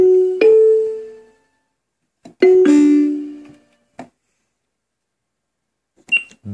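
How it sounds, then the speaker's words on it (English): Kalimba voice on a Wilson-Ross WR-5488 keyboard with sustain off, played as a few separate plucked notes and short clusters with quick decays and gaps of silence, plus a small click near the end. "Kalimba."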